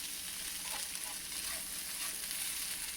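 Thai oyster pancake (hoi tod) fries in a pan with a steady, bright hiss and faint crackle, close and even for a few seconds, no voices over it.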